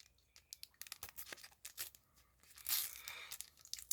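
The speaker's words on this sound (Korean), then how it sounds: "이게 되게 진해서 실루엣이 보이는데 한번 뜯어볼게요" A small sealed packet that comes with a vanilla madeleine snack is torn open, giving quiet, close ripping and crinkling in short bursts that end in a longer rustling tear.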